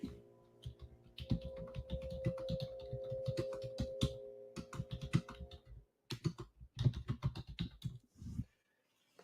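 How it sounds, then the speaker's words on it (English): Typing on a computer keyboard during a morning futures day-trading session, bursts of quick close clicks and key taps with short pauses between runs, fairly quiet. "Okay, so I'm going to be typing."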